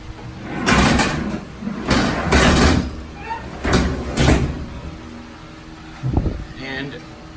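Peragon truck bed cover being pulled closed, giving several loud rolling, rattling pushes of the metal slats followed by a short sharp thud near the end, with someone talking between them.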